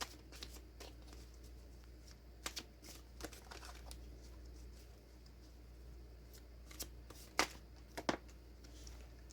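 Tarot cards being shuffled by hand, a quiet series of light riffling snaps and flicks at an uneven pace, close and soft over a low background hum.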